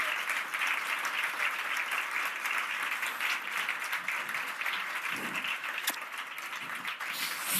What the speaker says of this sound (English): give them a round of applause for putting this whole event together